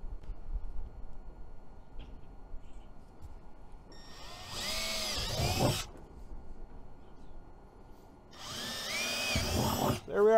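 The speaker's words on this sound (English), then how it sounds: "Nice size drill." A power drill bores the corners of a plastic switch panel for a steering console, two separate bursts of whining drilling, each a few seconds long, standing out clearly against quiet workshop background.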